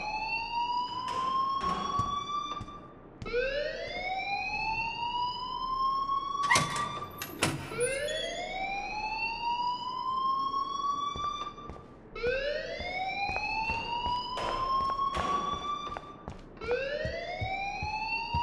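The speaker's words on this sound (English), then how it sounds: "please turn off that alarm since that's your job" A rising, wailing alarm in Life Is Strange repeats in steady upward sweeps, loud and continuous, with a few clanks and knocks under it and no talk.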